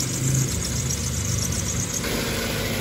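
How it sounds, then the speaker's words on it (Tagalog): A Toyota Avanza with a 3SZ engine, smoky from oil sludge damage and a broken valve, idles with a steady, dense mechanical hum and faint vibration, close by and without voices. "Hayaan lang natin ang umandar na nakaminor."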